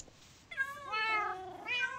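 A video-game cat meows, likely in Minecraft given the creeper mention, as a couple of clear, fairly close harmonic mews with a short pause between them, heard alone with no talk.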